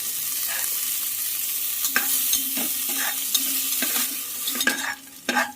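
Cashews and raisins frying in hot oil in a pan for vegetable rice, a steady bright sizzle with sharp scraping stirs of a spoon at irregular intervals, the last two stirs louder and close.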